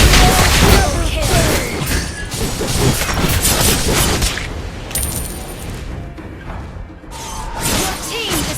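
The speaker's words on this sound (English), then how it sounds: "Your team destroyed the turret." Turret destruction and fight effects in the Mobile Legends video game come as loud crashes, booms and whooshes in dense bursts, with an announcer voice heard amid the clashing.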